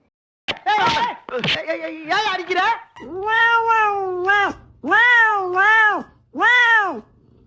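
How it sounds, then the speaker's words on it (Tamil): A mother cat scolds her kitten with a run of loud, close, drawn-out meows, starting with shorter chirping calls and then several long wailing cries in steady succession. "அடம் பிடிக்கிற அந்த பூனைக்குட்டிய வந்து அவங்க அம்மா கண்டிக்கிறாப்புல அடிய போக்கணும்"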